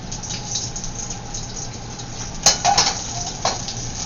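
Steady sizzling hiss of hot oil in a wok with a few sharp pops and crackles, close by, plus a faint metallic clink.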